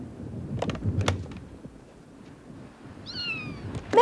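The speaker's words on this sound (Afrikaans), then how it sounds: "My arme ou kitsiekytjie." A cat gives a short meow near the end, clear and fairly close, after some earlier thumps and rustling movement in a quiet room.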